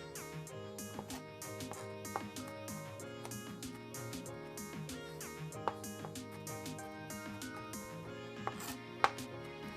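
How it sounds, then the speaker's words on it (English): A Victorinox Fibrox Pro 8-inch chef's knife mincing garlic on a board, rapid rhythmic chopping taps in a steady run with a couple of sharper knocks, close and clear with no voices. "It makes quick work of garlic. I'm able to mince it very nicely too."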